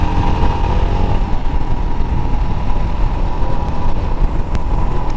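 Royal Enfield Himalayan motorcycle engine pulling hard under acceleration on a road ride, a loud, close, continuous throbbing roar with rough low rumble throughout.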